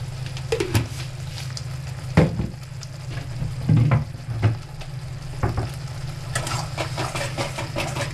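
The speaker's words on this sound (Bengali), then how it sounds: "এটা একটু ভাজা ভাজা করে নিই" Spice paste with a little sugar, for pottol chingri (pointed gourd with prawns), sizzles and spits in a hot pan as a spatula scrapes and stirs, set against a steady low hum.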